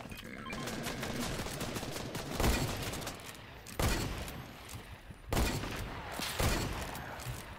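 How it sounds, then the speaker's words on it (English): Hunting rifle shots in Fortnite ring out as about four sharp, loud cracks spaced a second or more apart over a steady backdrop of game noise. "This hunting rifle is so bad."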